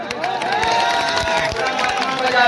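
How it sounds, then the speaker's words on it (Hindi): Audience clapping and cheering at a gathering, steady and fairly loud throughout, with crowd voices mixed into the dense applause. "एक बार और जोर से ताली बजा"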